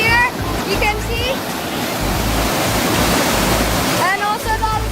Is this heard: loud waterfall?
yes